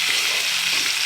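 Tomatoes for a tomato chutney fry in a pan, giving a continuous, bright, close-up sizzle that stays even and unbroken throughout the short stretch.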